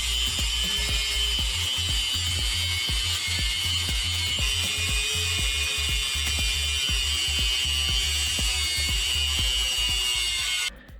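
Rough, steady grinding of a power tool cutting through protruding bolts on a Mega Moto motorcycle handlebar riser, continuous and close with a rhythmic low chatter, stopping at the end.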